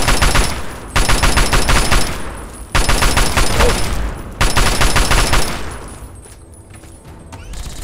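A Gatling laser fires from a hostile robot in Fallout 3, three sustained rapid bursts of several seconds each separated by short pauses, loud and dense, with a quieter rumbling tail at the end.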